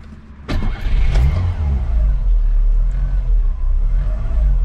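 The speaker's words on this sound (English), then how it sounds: "Let's start this Rover up." A Rover Metro's K-Series petrol engine cranks briefly, catches with a sharp burst and settles into a steady, close, loud idle rumble, with no voices over it.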